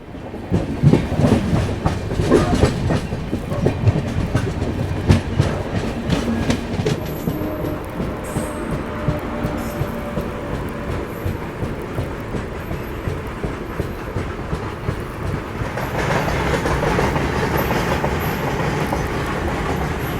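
Dehradun Express train running toward Mathura Junction, with steady rumbling wheel clatter and rhythmic clickety-clack throughout, loud and close as if heard from aboard, swelling again near the end.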